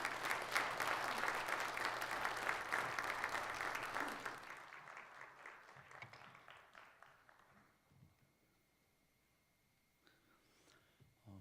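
A church congregation applauds loudly during a Sunday service, dense steady clapping for about four seconds, then thinning into scattered claps and fading to near quiet, with a few faint claps and rustles near the end.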